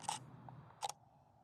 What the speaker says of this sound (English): I'm gonna take this shot